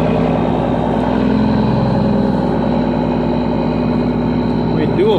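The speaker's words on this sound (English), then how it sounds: "Can we all just agree that this truck just kind of sounds like a beast?" Big diesel truck with dual 5-inch exhaust stacks idles in cold, snowy weather, a steady deep rumble that stays loud and close throughout, with a voice talking over it.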